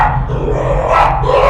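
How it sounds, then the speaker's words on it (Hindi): A dog barks loudly and close by in a short burst of a couple of barks over background noise. "कौन भौंक रहा था, कौन भौंका?"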